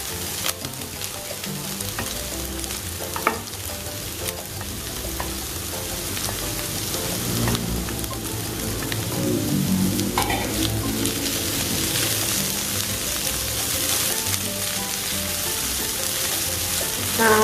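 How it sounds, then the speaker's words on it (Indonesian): Chicken pastry filling seasoned with pepper and salty soy sauce is stir-fried in a pan, joined by boiled carrots, giving a steady loud sizzle with scraping stirs throughout, no talking. "kemudian saya akan masukkan menyusul wortel ya di sini"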